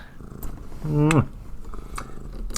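A pet cat purrs softly close by, with a short rising vocal sweep in the middle, under a low room rumble.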